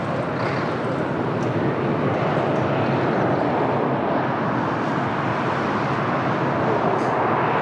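TAP Portugal Airbus A320-200 from Prague at Lisbon Airport, a broad steady jet engine roar that stays constant and fairly loud throughout, with no voices over it.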